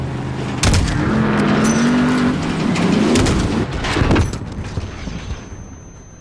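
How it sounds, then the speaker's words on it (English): A suicide truck roars in amid a firefight in Call of Duty: Modern Warfare, with a loud engine rumble passing close, bursts of gunfire and booming impacts through the first four seconds before fading to quieter ambience. "Suicide truck! Left side! Left side!"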